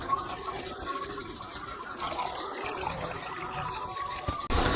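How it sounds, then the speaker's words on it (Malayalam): Soaked red cowpeas are washed in fresh water, with soft continuous sloshing and trickling close by under a steady background hiss, ending in a brief louder splash. "ഈ വെള്ളമൊക്കെ കളഞ്ഞിട്ട് ഒരു പുതിയ വെള്ളത്തിൽ ഒന്നുകൂടെ കഴുകാം."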